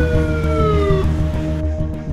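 An ambulance siren of the Sindh Peoples Ambulance Service wails with a steady, continuous tone, loud and close, set against a dense, noisy background with no talk.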